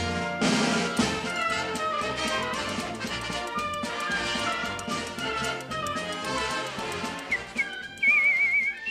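Whistling carries a melodic line over a full orchestral arrangement of a Mary Poppins song, standing in for a bird, with a sharp trilled whistle rising near the end.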